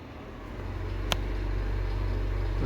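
An aging, loud bathroom extractor fan with a light in a rental house in Simla, Colorado, droning with a steady low motor hum, close and continuous, broken only by one brief sharp click.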